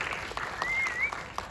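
Applause from an audience at a film screening and press conference, a steady wash of clapping with a faint whistle over it, brief and moderately loud.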